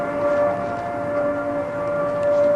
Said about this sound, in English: Someone had set off Harrisburg's civil defense alarm.